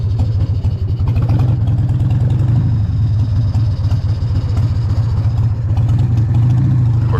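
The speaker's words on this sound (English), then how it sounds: "Oh, just listen to that idle too." A 1995 Harley-Davidson Sportster 1200 motorcycle idles nearby with a loud, steady, lumpy low rumble of rapid uneven beats that holds throughout.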